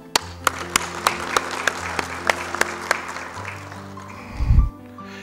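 Scattered audience applause at a university medical faculty event, a handful of distinct claps ringing out in an open hall over a low hum, tapering off with a brief thump near the end.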